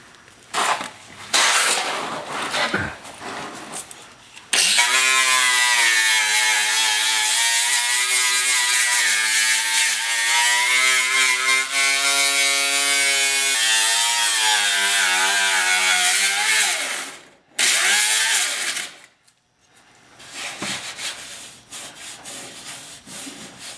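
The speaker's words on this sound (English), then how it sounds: "you got to prep everything up with the grinder. I'm just using a 24 grit disc." An angle grinder with a 24 grit disc grinds rusted metal in a rust repair, a loud, continuous, whining abrasive roar that holds for about twelve seconds, briefly cuts out, then resumes before tapering into lighter handling noises.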